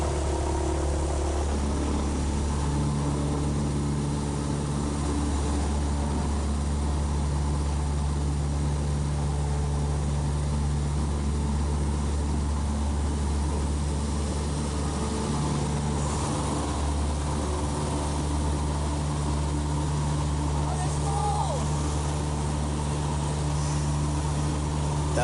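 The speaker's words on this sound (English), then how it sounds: "But here we go, now we're on takeoff." Small training plane on a discovery flight, its engine droning loud and steady from inside the cabin through the takeoff roll, a constant low hum with no voices.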